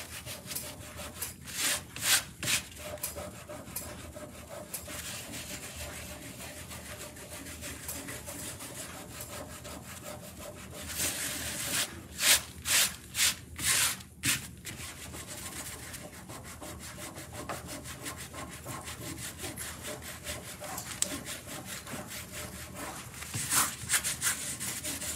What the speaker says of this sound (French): Fait qu'on voit que ça s'enlève bien, on frotte doucement.